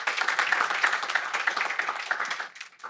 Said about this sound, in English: I think a warm round of applause for our panelists.